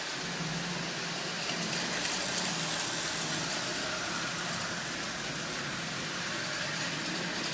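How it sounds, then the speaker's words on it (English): A battery-operated toy motor drives a Caterpillar O-gauge diesel locomotive pulling five cars at half power, giving a steady, even whirring hum up close with no break. "So a Caterpillar O-gauge locomotive made out of a battery-operated toy."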